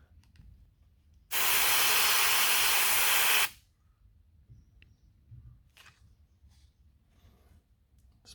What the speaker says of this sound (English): Spray around his eye.